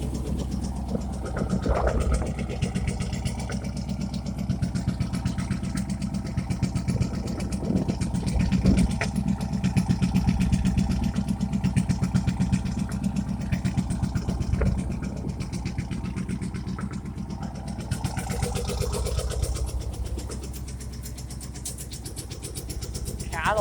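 Chevy 5.7 Vortec V8 with straight-pipe exhaust, fitted in a Cadillac that needs work and has a burnt-out oil pump, idling after a cold start: a steady low rumble throughout with a slight roughness, loud and close, and some faint talk mixed in.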